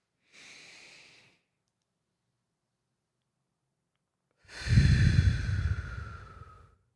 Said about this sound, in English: let's just take a deep breath